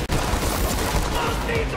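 Rapid gunfire from the shooter game Borderlands 3, a dense continuous burst of shots filling the whole moment at close range.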